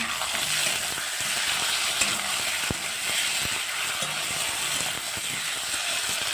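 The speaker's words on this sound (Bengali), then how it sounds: "আলুগুলো ভেজে নিচ্ছি, মশলা অ্যাড করে নিলাম" Potatoes frying with spices in a pan, constant loud sizzling crackle with occasional sharp clicks from stirring, close and steady.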